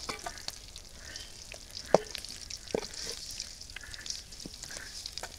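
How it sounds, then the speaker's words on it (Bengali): Fish fries crisp in oil in a wok, a faint, steady sizzle broken by a few sharp clicks and taps of a utensil. "একদম কড়া কড়া করে ভাজিয়ে নিছি মাছ।"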